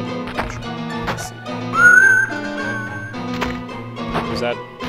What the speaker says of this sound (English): was that him whistling? Or was that like a bird?